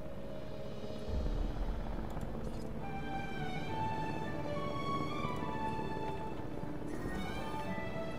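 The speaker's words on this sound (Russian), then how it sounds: "Вызываю вертолет, ставлю как бы ему усыпить вот этого животное." A helicopter in the video game Jurassic World Evolution flies in, its steady rotor drone running continuously with layered game ambience and tonal sounds over it.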